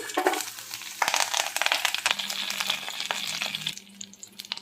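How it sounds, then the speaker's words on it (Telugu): Garlic, cumin seeds and curry leaves hit a spoonful of hot oil in a kadai, giving crackling sizzles and sharp pops with a few clinks and stirring scrapes, louder early and then fading near the end. "వెల్లుల్లి, జీలకర్ర, కరివేపాకు వేసుకుని వేయించుకుందామండి."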